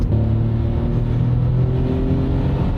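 A 60-horsepower VW Up! small car accelerates hard on an open road, its engine note climbing steadily in a loud, close, continuous rev with no talking.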